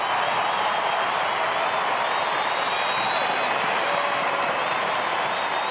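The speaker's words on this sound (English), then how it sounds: "This will get the crowd up and going, though." Football crowd at an AFL match between Fremantle Dockers and Brisbane Lions roars and applauds steadily throughout, a loud, dense stadium wash of cheering and clapping with no break.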